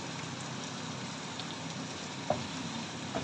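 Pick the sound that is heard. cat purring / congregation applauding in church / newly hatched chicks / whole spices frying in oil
whole spices frying in oil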